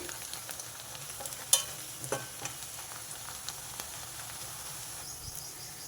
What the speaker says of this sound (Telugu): ఈ ఉల్లిపాయలు ఎర్రగా వేయగాలండి ఈ ఉల్లిపాయలు ఇంకొంచెం వేగాలండి